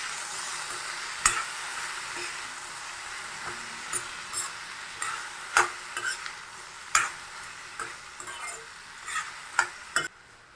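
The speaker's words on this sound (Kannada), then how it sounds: "ಸ್ವಲ್ಪ ಅರಿಶಿಣ, ಸ್ವಲ್ಪ ಉಪ್ಪು ಹಾಕ್ಕೊಂಡು ಚೆನ್ನಾಗಿ ಒಂದ್ಸಲ ಮಿಕ್ಸ್ ಮಾಡ್ಕೊಳ್ಬೇಕು." Ridge gourd and tomato curry with turmeric and salt is stirred in a pan, giving quiet, irregular scrapes and soft clinks over a faint steady sizzle, with no talking.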